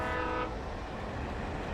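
A train in the video game Alan Wake Remastered, with a sustained horn blast that cuts off partway through, then a dense, heavy rumble of rolling wagons nearby, no voices.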